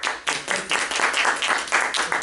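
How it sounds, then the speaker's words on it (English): A small group claps together for about two seconds, the dense irregular patter close and fairly loud, with no talking over it. "we're applauding"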